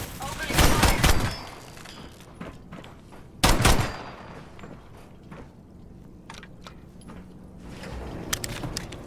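Gunfire in the Fallout 4 video game: two loud bursts of shots, one early and one mid-way, followed by scattered smaller cracks and clatter over game ambience.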